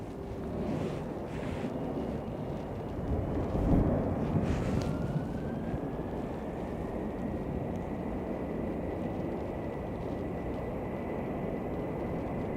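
An airliner rolls for takeoff on runway 10 right at Dublin Airport on a windy day, giving a low, broad roar with a faint rising whine, steady and fairly distant under buffeting wind.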